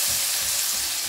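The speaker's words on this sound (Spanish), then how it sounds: "Así que vamos a sofreír la cebolla" Chopped onion sizzles in a frying pan with oil, a brief, steady hiss and crackle heard alone and close.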